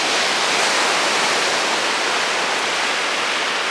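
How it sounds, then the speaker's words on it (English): Ocean waves coming in on a beach in rough water make a steady, loud, hissing wash of surf that roars on without a break. "It's starting to get more rough now, because before it was very calm. The waves are coming in."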